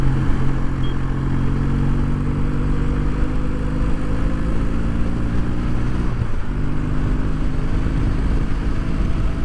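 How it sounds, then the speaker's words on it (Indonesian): Kawasaki W800 motorcycle engine running steadily up close, a loud low rumble with a faint vibrating rattle, briefly dipping in revs partway through, with no talking. "Terus suara mesinnya gue nggak tahu apakah yang ini doang atau ada sesuatu yang getar"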